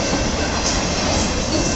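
A local freight train carrying GT cars rolls past in Battle Creek, Michigan, a loud, steady broadband roar of wheels and railcars close by, with no talk over it.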